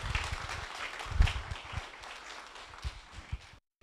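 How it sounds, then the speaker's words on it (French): Audience applause at a public meeting on pensions, where a Marseille deputy is introduced; a fairly faint, steady patter of clapping that fades out near the end. "On peut les applaudir"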